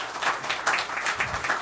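Brief patter of applause from a modest crowd at a La Verne city council meeting, honoring volunteering city staff; uneven, moderately close clapping with no talking.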